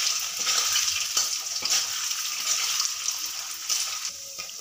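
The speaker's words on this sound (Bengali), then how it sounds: "একসঙ্গে সব পনির দেব না, কম কম করে ভেজে নেব।" Paneer cubes frying in hot oil over a medium gas flame, steady broadband sizzle with occasional sharper crackles and clinks, close and continuous without talk.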